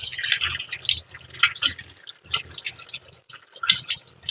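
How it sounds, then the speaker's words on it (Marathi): Goat intestines are rinsed clean with water, giving close, irregular splashing, dripping and squelching sounds in quick bursts, with no talk. "हे आपल्याला व्यवस्थित पाण्याने साफ करायचे आहे"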